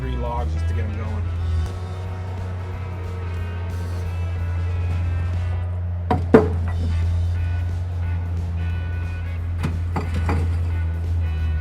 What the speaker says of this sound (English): I'm actually going to throw in about 3 logs just to get them going